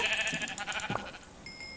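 A sheep bleats in Minecraft, a couple of short wavering calls close by, followed by a brief faint tone.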